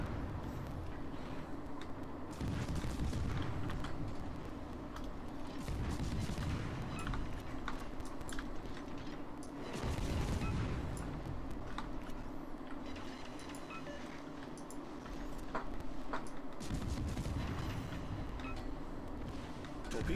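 Warship gunfire in World of Warships, heavy booming salvos recurring every few seconds over a continuous engine and battle rumble, loud and dense throughout.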